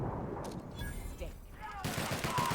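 Gunfire in The Outer Worlds video game: a couple of sharp broadband reports early on, then a louder, denser burst near the end, over steady game ambience with some voice-like sound mixed in.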